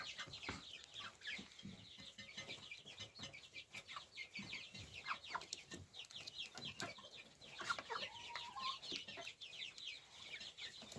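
Young chickens raised by a mother duck chirp and cluck busily in a farmyard, many overlapping peeps and soft clucks at moderate distance with a faint rooster-like call in the background.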